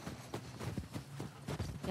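Horse hooves clip-clop at a steady walking rhythm in The Last of Us Part II, a series of soft, evenly spaced thuds at low volume.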